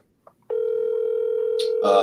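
Computer speakerphone call starting with a couple of faint clicks, then a loud steady ringback tone that holds for over a second before a voice cuts in.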